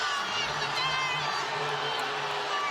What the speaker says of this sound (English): The crowd here unhappy.